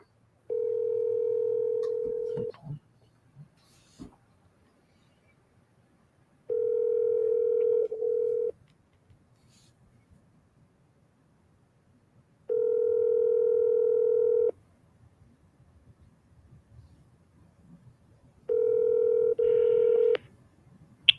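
Telephone dial tone sounding in four separate steady bursts of about two seconds each, with quiet gaps between them, as someone works through a list of outbound calls; one later burst carries brighter dialing tones.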